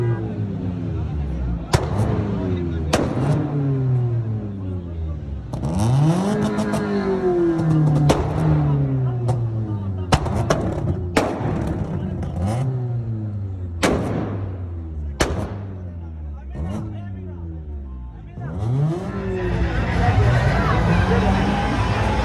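Modified cars at a university car show in Peshawar crank out a string of sharp, loud exhaust bangs and backfires over repeated revving, the pops spaced irregularly through a crowd's murmur, with people talking nearby.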